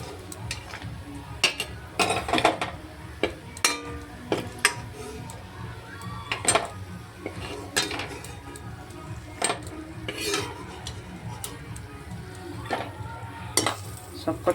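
Fried lentil dumplings are lifted out of a pan of hot oil, with repeated clinks and scrapes of a metal spoon against the pan over a soft, continuous sizzle, close by.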